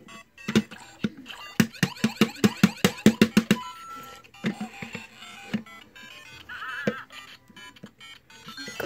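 A Lego Mario toy plays an electronic timer jingle: a fast run of bright beeping tones, then scattered chirps and a short warbling melody, close and fairly quiet, with no talking.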